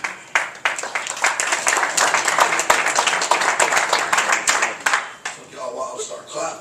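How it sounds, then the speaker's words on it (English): Audience at a boxing press conference clapping in uneven bursts that build and then taper off, with talk mixed in among the claps. "Took y'all a while to start clapping."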